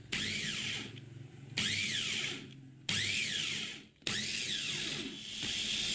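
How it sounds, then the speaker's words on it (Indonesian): A kitchen blender whirs as it purees mango with water into juice, running in loud bursts that ease off briefly between pulses. "Selanjutnya blend atau proses hingga halus dan tercampur rata."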